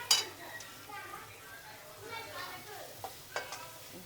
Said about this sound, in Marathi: मस्त फोडणी झाली आहे,